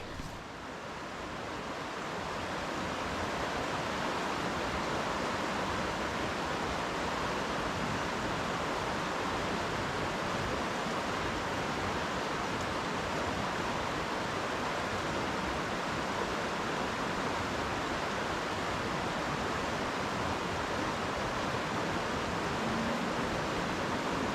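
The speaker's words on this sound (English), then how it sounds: "This is the Neshaminy Creek." The water of Neshaminy Creek flows beside an old masonry train bridge, giving a steady, unbroken rushing wash at moderate distance, with no voices.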